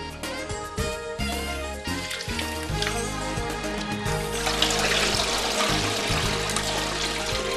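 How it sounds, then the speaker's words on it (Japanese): Hand-washed dry-clean-only clothes are pressed and squeezed, sending water splashing and trickling continuously for several seconds, close and fairly loud over a steady tonal background. "こうして押し絞りしてください。"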